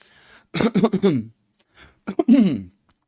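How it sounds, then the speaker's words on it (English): Two harsh bursts of throat clearing, close and fairly loud, separated by a short quiet pause. "I had to clear my throat"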